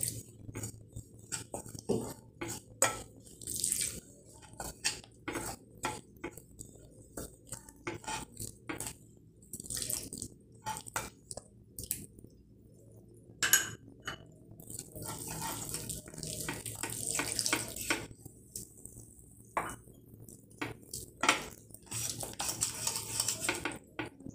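Milk is slowly stirred into banana malpua batter with a spoon in a bowl, producing irregular soft scrapes and light clinks, close and without talk.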